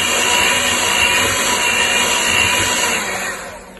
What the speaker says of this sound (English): we're going to mix the rest of our flour in